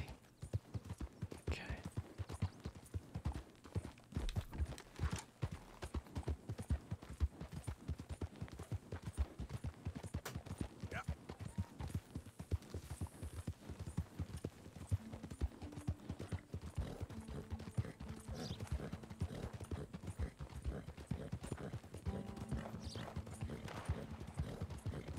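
Horse hooves gallop at a steady clip-clop rhythm in the video game Red Dead Redemption 2, loud and continuous with an occasional whinny, layered over in-game ambience.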